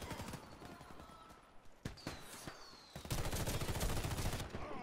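Gunfire from the shooter game Warface, in the Krampus city mission with a Daewoo K1 rifle, plays as sharp rapid bursts and single shots, then a dense sustained automatic volley in the second half.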